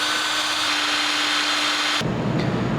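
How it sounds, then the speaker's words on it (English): A power drill fitted with a 1/4 inch bit bores holes around the outer edge of a homemade pottery wheel, giving a steady, loud whirring hum that cuts off sharply near the end. "drill all 5 holes around the outside of your wheel"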